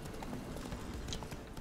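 Horse hooves clip-clop in The Witcher 3 as Geralt's horse Roach moves along, a steady rhythmic patter at moderate loudness under ambient game sound.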